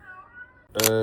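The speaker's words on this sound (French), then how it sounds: "mon chat est dans train de miauler" A cat meows once, a short loud tonal call at the end after a fainter harmonic sound.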